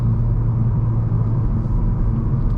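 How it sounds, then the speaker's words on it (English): VW MK8 Golf R with all-wheel drive pulling hard under quick acceleration, a dense low engine rumble and drone heard from inside, loud and continuous for a couple of seconds. "Just put your foot on the gas and it grips and goes like nothing."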